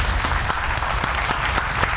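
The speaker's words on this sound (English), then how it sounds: "Please round of applause for our guest, David, came through today." A crowd applauds with dense, steady clapping that fills the whole moment, loud and close, with no voices over it.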